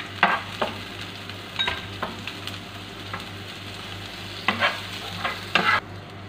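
Garlic sizzles in a hot pan while a utensil stirs and scrapes it, a soft steady frying hiss broken by several clinks and scrapes, with no talking.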